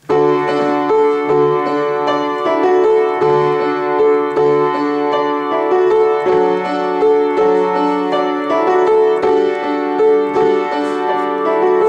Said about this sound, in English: You can play like the chorus without it. It'll sound something like this.